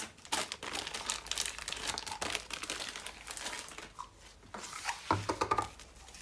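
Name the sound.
old ribbon being unrolled and handled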